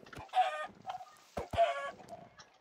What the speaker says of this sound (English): Chicken. Chicken. I like chickens.